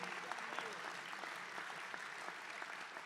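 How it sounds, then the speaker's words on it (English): Steady applause from an audience at a trade show lunch of the Oregon Association of Minority Entrepreneurs, a dense, even patter of many hands held at moderate level throughout. "Yes, this is the clapping portion."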